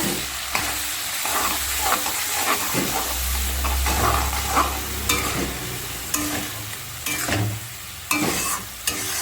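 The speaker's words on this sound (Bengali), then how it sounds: "এবার মশলাটা আমি ভালো করে কষিয়ে নেব" Spice paste with chili being stir-fried in a pan, giving a continuous loud sizzle with repeated scraping and stirring strokes and intermittent spatula clatter close by.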